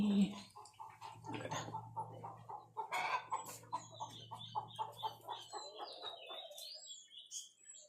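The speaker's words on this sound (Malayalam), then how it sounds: "കോഴി നീ അതിൽ കയറിപ്പോയോ" A hen clucks repeatedly in short, rhythmic bursts close by, with a low hum early on and a few higher bird chirps later.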